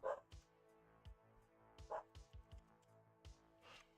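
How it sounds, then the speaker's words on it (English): A dog barks in short separate bursts, a few sharp yips spread over several seconds, faint and somewhat distant, with quiet background noise between them and no one talking. "The dog barking."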